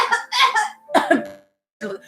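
A few short, harsh coughs in bursts, close by, separated by brief pauses.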